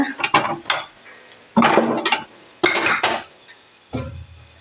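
A metal pot is lifted off the stove, clanking and scraping against a hard surface in a few loud, close bursts, then settles with a softer knock.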